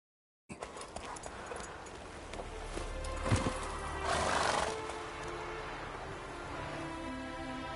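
A mare neighs and whinnies in The Witcher 3 video game, with a steady bed of hoof clatter and rain-like noise. A louder whinny swells midway, with no talk over it.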